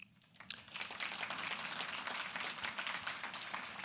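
An audience at an industry forecast event applauds introduced procurement staff, a dense, steady wash of many hands clapping that continues for several seconds, moderately distant and fairly quiet.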